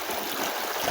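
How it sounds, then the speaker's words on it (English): Water rushes steadily through a gold sluice box at a placer mining site. It makes a continuous close hiss with no breaks. "Got good water flow."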